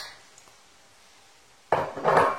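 Pasta salad with flaked tuna and corn mixed in a bowl, a quiet pause giving way to close, clattering scrapes of a utensil against the bowl, two short bursts of tossing.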